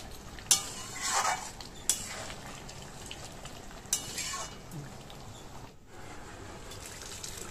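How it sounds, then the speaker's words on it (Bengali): Chana dal simmers in a pan as a spoon of ghee is stirred in, soft scraping and a few sharp clinks of the spoon against metal over a faint bubbling, quiet and close. "এক চামচ ঘি দিয়ে নেড়ে চেড়ে দেখুন"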